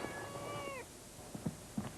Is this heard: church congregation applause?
no